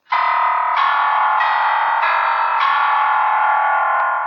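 Five bright electronic piano notes from a keyboard app are pressed in steady succession, each one sustained and overlapping into a continuous ringing tone, with no voices present.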